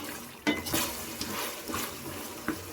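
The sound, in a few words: chicken frying on high flame in a pan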